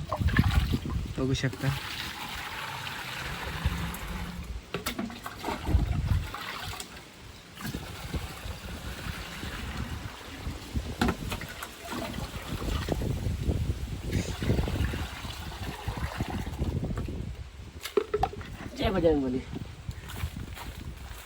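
Water pours and trickles onto banana plants in a Konkan village, a soft splashing and dribbling that runs under almost continuous close talk.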